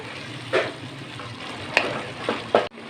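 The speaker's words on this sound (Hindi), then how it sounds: "इसको थोड़ा सा हमने इसमें फ्राई करना है ताकि इसका कच्चापन जो है वो ख़त्म हो जाए" One medium onion fries in a pan, a steady soft sizzle with three or four sharp stirring clacks against the pan.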